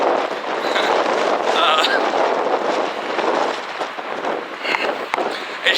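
Gusty wind buffets a handheld microphone outdoors, a steady broad roar with fluttering bursts that swells and eases throughout, close and loud, with some talking mixed in underneath.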